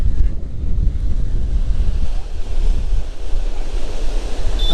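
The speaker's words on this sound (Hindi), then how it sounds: "इसको खड़ी वाटरफॉल के नाम से जाना जाता है" Khadi waterfall near Uttarkashi in winter sends up a steady, heavy roar of falling water. Gusty wind buffets the microphone throughout, and no one speaks.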